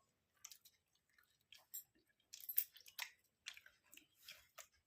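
Someone eating hot food on a winter night, with soft, close, irregular chewing and crunching bursts in quick clusters and brief pauses between them, no voices.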